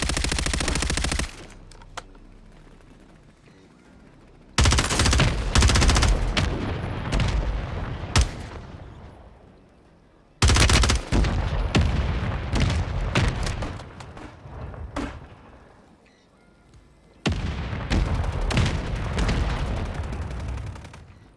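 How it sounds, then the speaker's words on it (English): Friendly mortar strike explosions in a video game arrive as heavy, booming blasts in three or four loud bursts, each one a dense roar of detonations and rumble that fades before the next hits. "Friendly mortar strike on the way."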